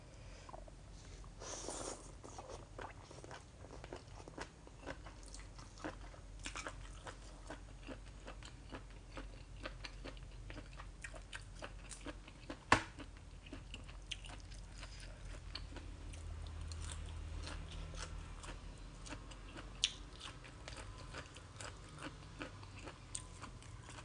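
Spicy pounded squid tentacle salad with sator beans is chewed close up, with wet crunchy bites and soft smacking repeating steadily over a low background hum, no talking.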